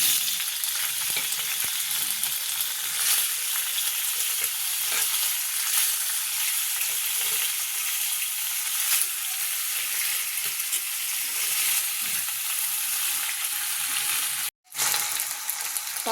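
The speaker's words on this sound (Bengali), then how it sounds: "এই যে কড়া তেলটা গরম হয়ে গেছে, এবার আমি পাস্তাটা দিয়ে দিচ্ছি।" Pasta frying in hot oil in a wok with a dense, steady hiss that is occasionally stirred, heard close and fairly loud. The sizzle cuts out for a moment near the end and then resumes, with no talking.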